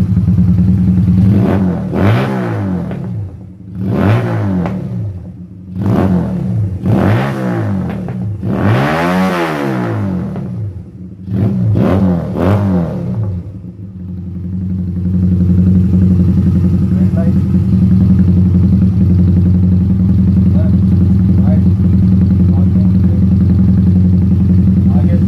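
A Honda Roadmaster 200 motorcycle engine, converted to a 250 scrambler, revs repeatedly in sharp rising bursts, close and loud, then settles into a steady idling rumble.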